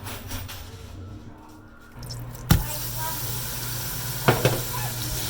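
Ground beef seasoned with garlic powder, onion powder and black pepper sizzles in a pan, a steady frying hiss with a couple of sharp utensil scrapes and clanks as it is stirred.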